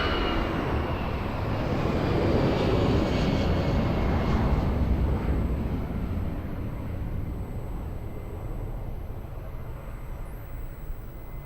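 An airliner takes off from runway 02 at Lisbon Airport, its heavy jet roar peaking early and then slowly fading as it climbs away, continuous and without talk.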